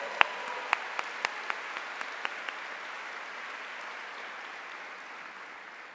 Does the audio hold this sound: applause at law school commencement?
yes